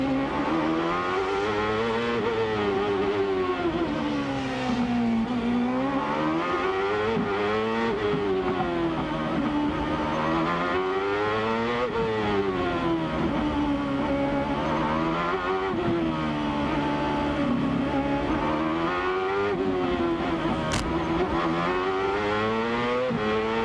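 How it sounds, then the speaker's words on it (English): Onboard a CART race car at the Long Beach street circuit in 1999, a loud high-revving engine climbs and drops repeatedly through sharp gear changes, sustained and close throughout with no talk. "listen to the gears"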